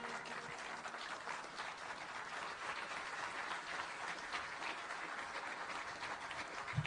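A large crowd at an award ceremony for a university charter in Kenya applauds steadily, a dense even wash of clapping that holds at a constant level throughout.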